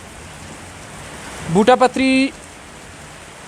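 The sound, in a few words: heavy rain in Srinagar area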